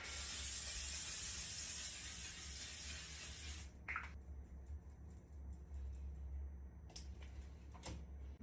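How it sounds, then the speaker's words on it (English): Makeup setting spray misted onto a face, a loud, steady hiss lasting about three and a half seconds, then stopping, followed by faint handling noises and soft clicks of the bottle. "So all I have left is this setting spray, which I usually put on top of my other one."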